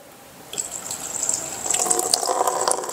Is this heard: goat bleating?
no